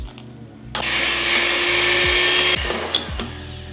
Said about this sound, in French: Le mixeur revient et on mixe.